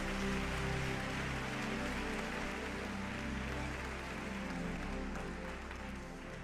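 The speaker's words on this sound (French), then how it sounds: "Mettez bon Dieu un bel applaudissement." A church congregation applauds, a dense continuous wash of clapping that stays loud and even, with no clear voice above it.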